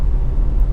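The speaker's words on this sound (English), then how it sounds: "engine starts absolutely instantly, of course, and settles to a smooth, even idle" A 2.0 i-VTEC Honda Accord ES GT saloon idles steadily, its close, even low rumble running unbroken and alone throughout.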